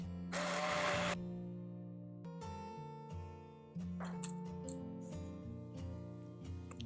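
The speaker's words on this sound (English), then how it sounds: "It's the hand mixer. That's pretty high. That's more like it. I'm going to liquefy this stuff." A hand mixer whirs steadily as it purées potato and parsnip soup, with a loud broadband burst at the start, then a sustained motor hum whose pitch shifts in steps as the speed changes.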